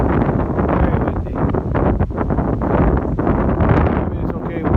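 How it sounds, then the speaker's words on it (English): Strong wind blows steadily outdoors on a farm by a field of cows and calves, a loud continuous roar buffeting the microphone with gusty swells throughout. "Very windy."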